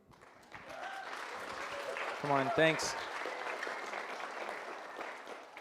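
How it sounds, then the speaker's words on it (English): Audience applause at a fundraising and vision-casting livestream event, steady clapping throughout under a brief voice calling out and thanking. "give them a round of applause"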